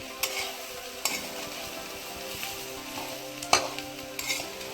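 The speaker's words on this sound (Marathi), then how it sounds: "जरा मस्तपैकी परतून घ्यायची" Bhokar flower bhaji is sautéed in a pan, with a continuous sizzle broken by sharp metallic scrapes and taps from stirring every second or so, near and clear.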